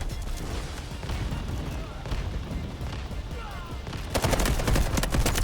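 Rapid bursts of gunfire in the video game Delta Force: Hawk Ops crackle and pop, growing louder and denser toward the end, with muffled talk underneath.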